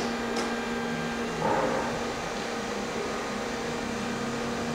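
Spindle of a Brother TC-S2DN-0 CNC drill tap center with 4th axis, a steady mechanical hum and whine with a constant tone, running continuously at moderate level with a small swell early on.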